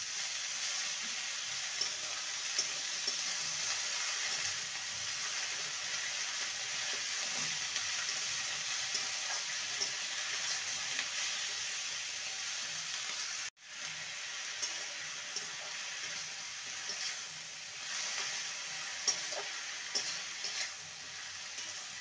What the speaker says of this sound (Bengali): এবার ধুয়ে রাখা শাক দিয়ে দেবো, নোটে শাক। ভালো করে সবজির সাথে মিশিয়ে নেব।